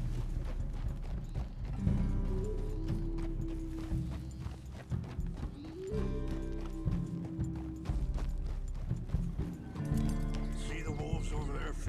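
In Red Dead Redemption 2, a horse's hooves clip-clop in a steady rhythm under a dense game soundtrack of music and ambience, while characters talk over it.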